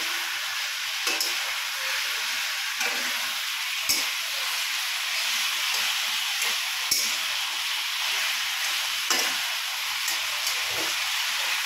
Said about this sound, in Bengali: আস্তে আস্তে খুন্তি ঘোরাতে হয়